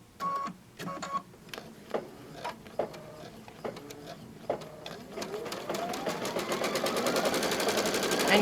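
An embroidery machine stitches applique over the edge of a tea towel with stabilizer, starting with spaced clicks and then building into a steady, close, rising mechanical buzz.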